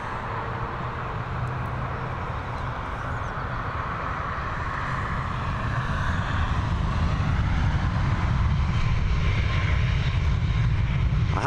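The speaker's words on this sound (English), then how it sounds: "we're heading over to Krakow now with this Boeing 737 MAX" A Boeing 737 MAX departs Dublin Airport bound for Krakow, a continuous jet engine roar with a low rumble that swells steadily louder through the second half, heard alone without talk.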